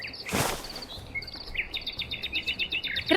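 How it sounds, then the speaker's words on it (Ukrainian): Jungle birds chirp and call in the video game Chronicles of Vipers: a burst of rustling noise, then quick repeated high tweets and trills in a rhythmic series over a quiet background. "Не поскупилися на е, звуки природи."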